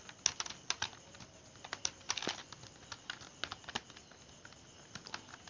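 Quick bursts of keystrokes on a computer keyboard while entering marksheet data in an Excel spreadsheet, close and crisp clicks in irregular clusters with brief pauses between words.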